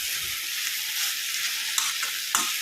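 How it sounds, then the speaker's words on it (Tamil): Grated coconut being stirred and sautéed in a hot pan for a drumstick-leaf thuvaiyal, a steady bright hiss with a couple of faint scraping knocks near the end, nearby and without talking. "தேங்காய் போட்டதுக்குமே கொஞ்சம் நேரம் கலந்து விட்டு ஆஃப் பண்ணிக்கலாம்"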